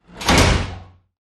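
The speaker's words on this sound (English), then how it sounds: "the doors are closed at the end of the workday, and Brian and Stewie are now trapped within it" Heavy bank vault doors swing shut in a cartoon scene, giving a single loud, booming slam with a deep low rumble that rings briefly and then stops dead into silence.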